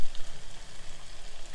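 Churros frying in oil, a dense, steady bubbling sizzle that stays constant and close throughout.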